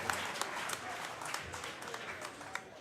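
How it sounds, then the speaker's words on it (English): Spectators at a mixed martial arts event applaud after a three-round fight, a steady, fairly distant wash of clapping and crowd noise with a few sharper claps standing out. "Let's give a big round of applause to Aaron and Chad for 15 minutes of fighting"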